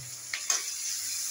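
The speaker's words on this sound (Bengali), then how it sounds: "ভেজে নিই।" Tomato, ginger and garlic paste fries with chicken mince in a pan, a quiet, even sizzle with a couple of faint stirring scrapes over a short moment.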